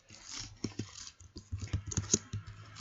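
Typing on a computer keyboard, with an irregular run of close key clicks and taps, some clustered and some spaced apart, clear and fairly quiet with no talking.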